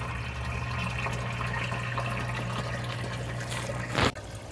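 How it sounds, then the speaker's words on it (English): Water pours steadily into a fish tank sump, a continuous trickling and splashing with a low hum underneath, ending in a brief louder gush before easing off. "refill the lost water here in our sump tank"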